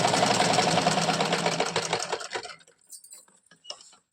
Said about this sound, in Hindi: बाद में यहाँ इधर से घुमा करके सिलाई पकड़ देंगे इसको